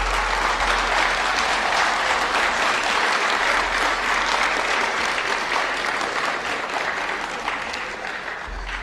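Loud, dense audience applause at the closing session of an event, sustained and even from start to finish without talk.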